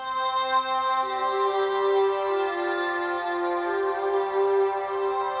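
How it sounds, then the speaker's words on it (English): A synth pad called Dream Voice sustains a smooth, airy tone with rich layered harmonics, holding and shifting gently in pitch, alone and without talk. "I also added this other pad called Dream Voice"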